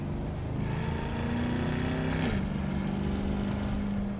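A Chevrolet C8 Corvette 3LT with the Z51 package driven in manual mode, its engine droning steadily from inside the cabin with a tone that rises, then drops as a gear changes, no talk.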